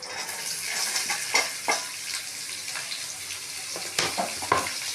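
Onions fry in a pan with green chillies and garlic, a steady close sizzle punctuated by several scraping stirs and clacks of a spatula, without any talking.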